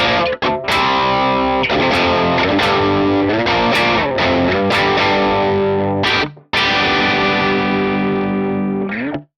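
An electric guitar plays through a Victory Copper amp capture on a crunchy top boost setting, sustained distorted chords ringing out loud with brief gaps between strums.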